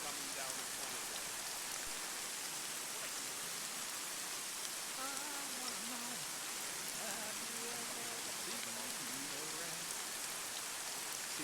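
Rain falling steadily on a surface, a dense even hiss of drops throughout, with faint wavering tones of distant voices or singing low beneath it.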